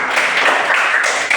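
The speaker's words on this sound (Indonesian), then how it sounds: "Tepuk tangan." Classroom applause with a group clapping together, a dense steady patter of hands held at an even level for a short burst.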